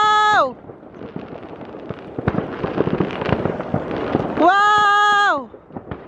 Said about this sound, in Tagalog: Grabe ang fireworks! Grabe yung fireworks dito!